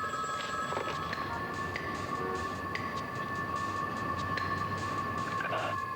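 A telephone rings inside a booth, repeated bright electronic ring tones sounding steadily over a low rumbling background hum.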